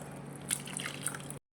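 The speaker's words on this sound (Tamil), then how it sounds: "இப்போ இந்த சன்னியில் ஊற்றி வடிகட்டிக்கலாம்." Whey draining through a strainer set over a plate while homemade paneer is made, a soft, steady trickle with a few faint drips, close and quiet, ending abruptly.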